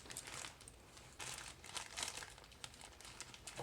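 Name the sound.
scissors cutting open a fabric parcel, packaging crinkling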